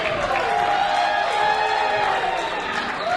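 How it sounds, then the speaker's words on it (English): Crowd at a Barrie Wrestling show cheering and shouting steadily throughout, a dense roar of many voices with no break, loud and sustained as the crowd gets behind a wrestler. "The Barrie Wrestling crowd getting behind Joey."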